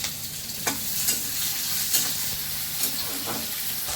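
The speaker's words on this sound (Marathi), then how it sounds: "आता टाकते त्याच्यामध्ये कांदा. आता या कांद्याला छान असं लाल उसर तळून घ्यायचं याच्यामध्ये." Chopped onion and curry leaves fry in hot oil in a pan, a loud, steady sizzle that hisses close up, broken now and then by soft stirring scrapes.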